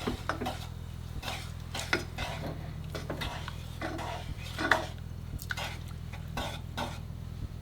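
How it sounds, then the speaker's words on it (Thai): Sugar stirred as it melts over low heat for a tamarind dipping sauce: soft, repeated spoon clinks and scrapes against the pan, quiet and close over a steady low electrical hum, with no voices. "เราก็จะใช้ไฟอ่อน แล้วก็ เคี่ยวน้ำตาลให้ละลายเลยนะครับ"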